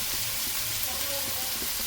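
Vegetables frying with salt in a pan for poha (Bengali chirer polao), a steady close sizzle with faint stirring running throughout.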